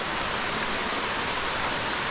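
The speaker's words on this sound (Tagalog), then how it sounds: "biglang umulan ng malakas mga kabayan" Sudden heavy rain pours down steadily near a farmhouse where goats shelter, a dense, continuous loud hiss of drops with no voices.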